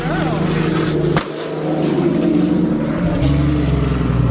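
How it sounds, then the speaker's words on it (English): A loud Jeep Cherokee running without a muffler gives a close, steady droning roar that dips sharply for a moment, then resumes and settles into a deeper, heavier rumble. "I don't think he had a muffler on. That was a loud Cherokee."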